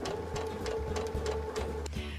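A sewing machine stitches a strip of fabric held between two guides, running with a fast, even mechanical whir and rhythmic needle clatter before stopping with a brief clunk.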